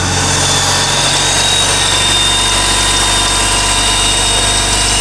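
BMW M54 engine in a 325ti running steadily at idle, a loud continuous rumble with a constant low hum and no talking.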